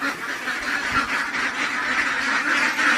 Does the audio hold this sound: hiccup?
no